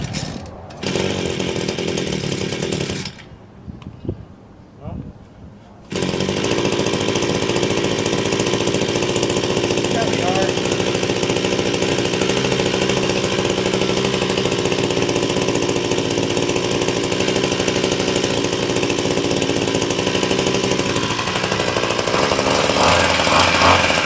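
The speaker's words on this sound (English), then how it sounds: "So while I'm busy weed whacking" A Badger WB26BCI 26cc two-stroke brush cutter roars loudly and close by, briefly dropping to a quieter idle before revving back up into a sustained high-pitched buzz while trimming weeds.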